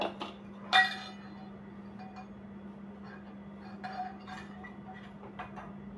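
A glass mixer jar clinks in a kitchen while mawa jalebi is prepared, one sharp ringing clink near the start followed by a few softer taps over a steady low electrical hum.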